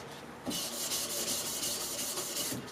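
Steel knife blade hand-rubbed with abrasive grit, a steady, close scratchy rubbing that starts after a brief pause and continues evenly to the end, with no talking.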